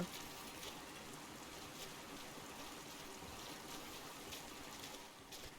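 A waterfall in the fantasy game Dragon Age: the Veilguard pours in a steady, even broadband rush, moderately faint and unbroken throughout, with no voices.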